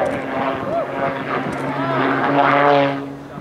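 An Extra 300L aerobatic propeller plane flown by Nancy Lynn hangs in a torque roll at an air show, its engine and propeller making a steady droning hum under a loud announcer's voice.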